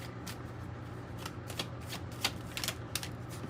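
Kipper cards being shuffled by hand for a tarot reading, heard up close as a quick series of crisp riffling and sliding card sounds with no speech.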